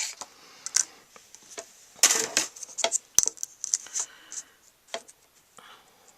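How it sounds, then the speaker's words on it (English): A Stampin' Cut die cutting machine working through paper, heard as sparse clicks, ticks and rasping crank strokes in an irregular rhythm, close and fairly quiet with no voices. "let's grab the Stampin' Cut again and die cut this"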